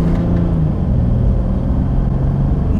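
Chrysler 300C diesel, a big saloon, accelerating on a country road past a tractor, a steady loud engine rumble with droning tones that shift as it changes gear quickly, heard from inside the cabin.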